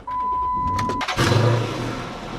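A high-mileage ex-police Dodge Charger Interceptor cranks briefly after a steady warning chime, then catches with a loud burst and settles into a rumbling idle close by.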